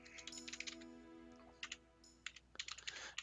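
Computer keyboard typing up close: quick bursts of crisp key clicks in short runs, separated by brief pauses, with no voices.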